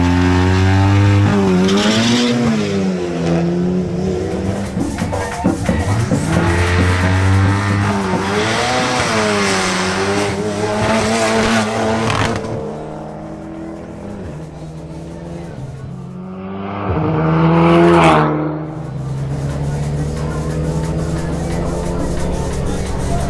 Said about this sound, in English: Jamie Camargo in his BMW 320i makes another run